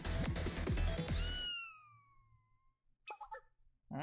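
A loud burst of noisy game-like sound gives way to a drawn-out, falling cat-like cry, followed by short chirpy bursts near the end.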